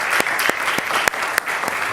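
Audience applauding at a stage play performed by young first-time actors, a dense, loud, steady clapping with a few sharp individual claps standing out.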